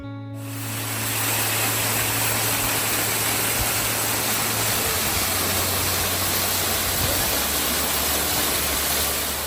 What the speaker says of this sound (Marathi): ही शांतता भंग पावते ती धबधब्यांच्या आवाजाने